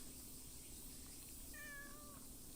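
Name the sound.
cat meowing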